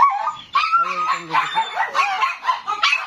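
A pack of dogs, a German shepherd among them, gives close, loud barks, yips and whining calls in quick uneven bursts.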